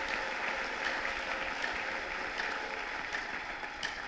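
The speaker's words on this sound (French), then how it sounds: "Est-ce qu'on peut acclamer la lecture de la parole?" Church congregation applauding after a Bible reading, a steady continuous wash of clapping from many hands at moderate level throughout, with no voices over it.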